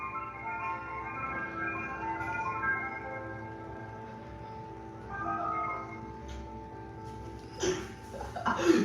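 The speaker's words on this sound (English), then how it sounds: "The ice cream truck pulling up at 9 o'clock. Sounding mad distorted." An ice cream truck plays its jingle on a street late at night, the melody sounding warped and distorted, steady and fairly close, with faint laughter and background noise toward the end.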